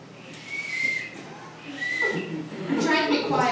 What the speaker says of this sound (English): I have this whistle.